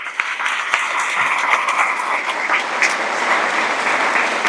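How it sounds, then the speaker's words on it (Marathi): A crowd at a Hanuman pilgrimage procession gathering claps steadily and loudly, a continuous dense patter of many hands close by with no talking over it. "एकदा मेघराजाबद्दल जोरात टाळ्या व्हायला पाहिजे."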